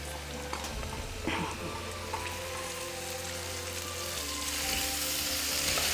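Okra (bhindi) frying in hot oil with mustard seeds, a continuous close sizzle with small crackles and pops that grows slightly louder toward the end.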